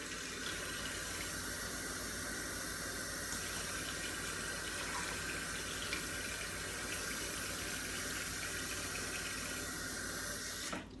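Water pours steadily into a slow cooker for a pot roast, a continuous close splashing stream that runs nearly unbroken for about eleven seconds at moderate loudness.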